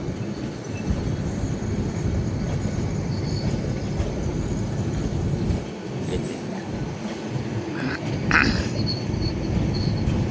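A train rumbles steadily nearby at Cox's Bazar railway station, with a continuous low roar and a brief metallic squeal partway through.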